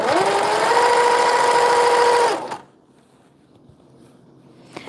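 A Reliable sewing machine runs steadily and loudly with a constant motor whine for a couple of seconds, then stops abruptly, leaving quiet room tone.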